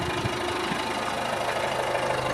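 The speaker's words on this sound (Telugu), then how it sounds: "అదే మళ్ళీ నేను హాఫ్ క్లచ్ రిలీజ్ చేశానంటే వెహికల్ మూవ్ అవుతుంది." A car engine runs steadily at low revs while the vehicle creeps forward on half clutch, a continuous close hum and rumble with an even, unbroken drone and no talk.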